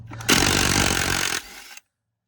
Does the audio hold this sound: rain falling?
no